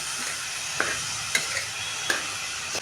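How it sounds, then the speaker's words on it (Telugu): Chopped cabbage mixed with salt in a hot pan, a steady close sizzle broken by a few sharp scraping strokes of a spoon against the metal. "ఇట్లా క్యాబేజ్ మొత్తాన్ని మిక్స్ చేసేసుకొని"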